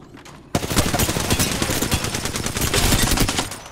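Video game gunfire, rapid automatic bursts that start abruptly after a brief quiet moment and then continue loud and dense, a sustained volley with no talk over it.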